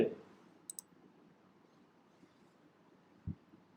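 A computer mouse gives a quick pair of sharp clicks for a right-click, followed later by a single dull tap, all faint against a quiet room background.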